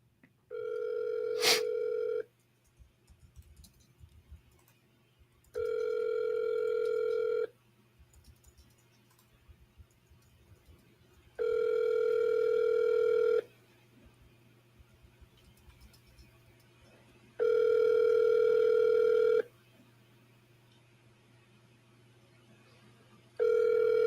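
Outgoing telephone call ringing back to a seller, with four evenly spaced ringback tones, each about two seconds long, separated by silent gaps and heard clearly with no talk over them.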